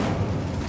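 An Incendio fire spell cast in Hogwarts Legacy, a short, loud whooshing roar with a heavy low rumble, close and steady for under a second.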